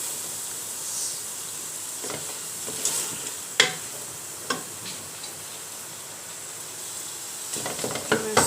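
Kidney bean curry masala frying in a pan gives a soft, steady sizzle and hiss, broken by a few sharp scraping stirs and clinks that bunch up near the end.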